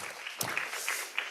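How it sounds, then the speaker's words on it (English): Brief, light applause from a conference audience following a presentation, a soft patter of clapping with a few sharper individual claps standing out over a short moment. "Please give applause to Bapak Ahmad Zaki."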